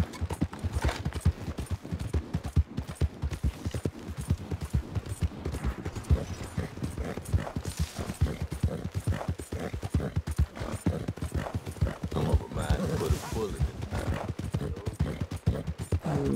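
Horse hooves clip-clop steadily at a walking pace in Red Dead Redemption 2, a dense run of hoof strikes close up, with faint game ambience behind and no talk.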